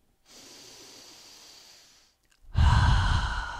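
A person breathes heavily through cupped hands, imitating Darth Vader: a long hissing inhale, a brief pause, then a louder, rougher, close breath that echoes in the hands.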